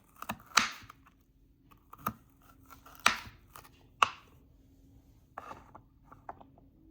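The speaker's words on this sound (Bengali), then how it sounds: "এবার এখান থেকে এইভাবে ডুমো ডুমো করে কেটে নিচ্ছি।" Knife chopping bitter gourd into small cubes on a board for a Bengali potato and bitter gourd curry: a handful of sharp, separate knocks with pauses between them, close and fairly clear over a quiet background.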